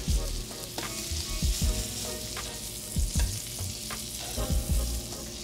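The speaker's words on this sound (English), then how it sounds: "I seasoned them up, added some butter to a cast iron, and gave them a sear." Alligator meat sears in butter in a cast iron pan, giving a loud, steady sizzle with crackling spits and repeated low thumps and scrapes as pieces are moved, close up and without speech.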